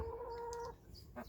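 A hen clucking close by on a small farm, a short burst of clucks with a brief drawn-out note at the start, fairly faint and alone.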